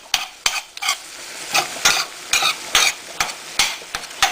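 Sharp, irregular chopping and scraping strikes as meat is chopped in a pan over a steady sizzle of frying, close up, with no talking.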